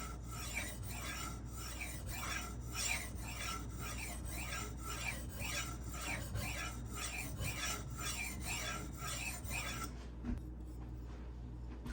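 Kitchen knife sharpened on a stone, a steady rhythmic rasp of repeated strokes, close and continuous, stopping near the end with quiet after.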